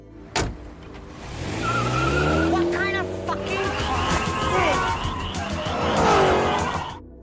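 A stolen car speeds off in an action film chase, its engine roaring and tires skidding and squealing loudly and continuously, with a brief voice near the start.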